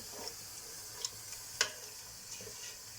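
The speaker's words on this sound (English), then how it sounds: "I'll stir it and let it cook a little bit till all ingredients get combined" Turmeric and other ingredients being stirred in a pot for akhni, with a low steady sizzle and a few light scraping ticks from the stirring, fairly quiet and with no voices.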